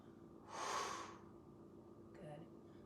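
A forceful yoga exhale, one sharp breathy whoosh like blowing out a candle, close and brief, followed by a quieter breath sound after a pause.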